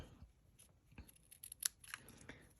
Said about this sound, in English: And then, gonna snip that